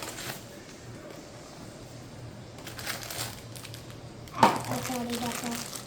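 Soft crinkling and rustling of Labubu toy packaging being handled during an unboxing, faint and close, with one sharper crackle near the end.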